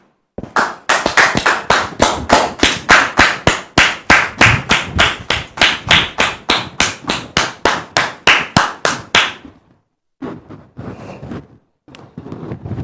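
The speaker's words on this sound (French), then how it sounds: "Dame Marguerite, que nous allons recevoir avec vos applaudissements, s'il vous plaît" Audience applause at a church gathering welcoming a visitor: a rhythmic, evenly spaced clapping beat, loud and close, then a short pause and scattered clapping resuming.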